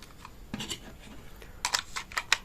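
A UGREEN ergonomic wireless mouse has its plastic battery cover pried open and a 1.5 V AA battery pushed in, producing close scraping, plastic clicks and sharp snapping taps clustered toward the end.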